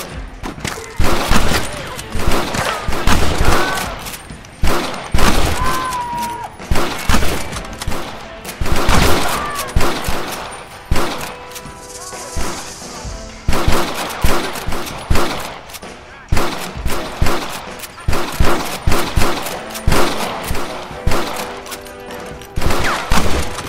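Rapid bursts of gunfire from Red Dead Redemption, a dense fusillade of sharp shots and volleys cracking in irregular clusters throughout, loud and close, with faint voices mixed in.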